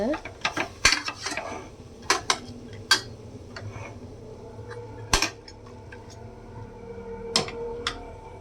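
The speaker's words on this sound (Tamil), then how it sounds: "கொஞ்சம் கிளறிக்கோங்க." A kilo of goat head curry meat is stirred in a metal cooking pot, giving irregular sharp clanks and scrapes of a utensil against the pot, some close and loud, with quieter shuffling between.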